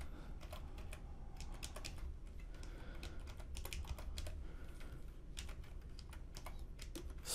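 Fast, steady typing on a computer keyboard while entering CSS code for a website menu, a dense run of close, crisp key clicks that continues without pause and without speech.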